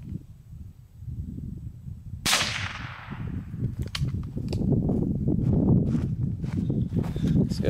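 .22 Long Rifle gunshot fired in a penetration test through wood with cinderblock outdoors: a single sharp crack with a fading tail, followed by rustling and footstep-like sounds.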